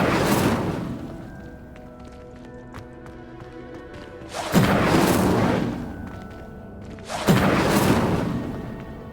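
The Incendio fire spell cast in Hogwarts Legacy: two loud, roaring bursts a few seconds apart, each fading slowly, following a quieter stretch of ambient game sound and a fading earlier burst.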